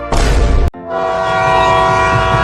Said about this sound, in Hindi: अरे आदमी थोड़ा जल्दी निकालना, ट्रेन आ गई।